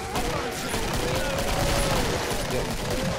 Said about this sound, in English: Always keep shooting.